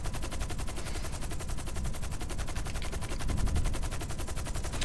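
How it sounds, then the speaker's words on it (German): Rapid gunfire from a sniper rifle in GTA 5, a continuous loud stream of tightly spaced shots lasting several seconds, close up with no talking. "Oh, das ist eine geile Sniper."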